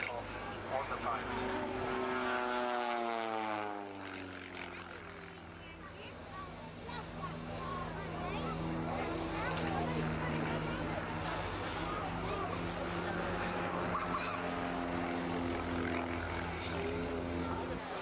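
Propeller aerobatic plane at a country air show, its engine droning and sweeping up and down in pitch as it moves through loops and rolls, with a commentator speaking over the public address throughout.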